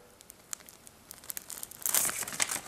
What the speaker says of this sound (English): Tear open foil package across dotted line and remove pads.